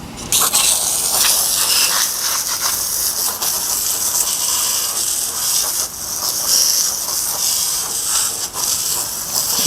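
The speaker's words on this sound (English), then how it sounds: "let me go ahead and spray that down real quick" Meguiar's Ultimate All Wheel Cleaner hisses steadily from a spray nozzle onto a car wheel rim, a loud, close, continuous spray lasting nearly ten seconds with slight pulses.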